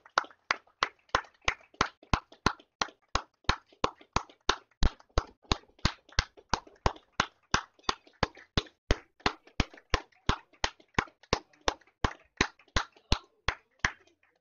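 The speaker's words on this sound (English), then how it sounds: "you're about to hear more clapping because Sheet A is about to come in" Spectators at a curling match clap in a steady, evenly spaced rhythm, sharp distinct claps repeating for the whole stretch, fairly close and clear with little else around them.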